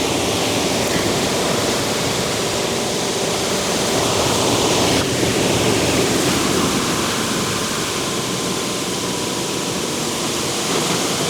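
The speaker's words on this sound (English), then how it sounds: "here we go now with the pressure washing" Pressure washer jet blasting water onto a BYD Shark rooftop LED light pod, a loud, continuous broadband hiss and spray roar held steady throughout without pauses.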